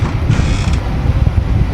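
A door creaks open in the horror video game Granny 3, a drawn-out squeaky groan that rises over a steady low background hum, close and fairly loud with no talk.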